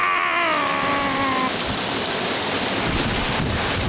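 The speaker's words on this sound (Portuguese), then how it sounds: "não dá pra chegar embaixo porque é violenta a queda de água" At Cachoeira do Avencal a powerful waterfall roars as a dense, continuous rush of water, heavy with wind buffeting the microphone. A short tonal whine fades out early on.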